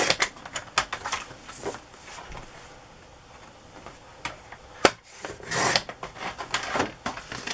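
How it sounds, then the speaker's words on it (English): Cardstock pages are cut down to size at a desk, heard as a run of close scraping and slicing strokes with a few sharp snaps in between, and no talking. "But I will cut them down to size just in case. I'll just cut that to 7."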